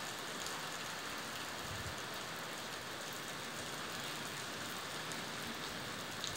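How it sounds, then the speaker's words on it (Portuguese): Heavy rain pours down at night in Poços de Caldas, Minas Gerais, as a steady, dense hiss of drops drums on the surfaces nearby. The downpour is unbroken and fairly quiet, with only a faint low rumble beneath it. "Hoje cedo choveu forte, mas não igual agora"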